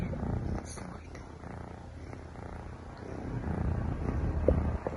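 A cat purrs softly after eating, a low steady rumble indoors, close but faint, with some background noise and no clear talk over it.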